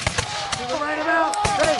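Musket fire at a Revolutionary War reenactment: several sharp, close gunshot cracks in quick succession, with shouted commands and voices heard between the shots.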